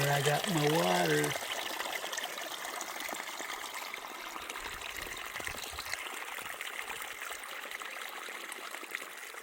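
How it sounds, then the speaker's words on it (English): Steady rushing of East Mineral Creek, a Colorado mountain creek, broadband and continuous, with a brief harmonic whine or call near the start. "Water from East Mineral Creek."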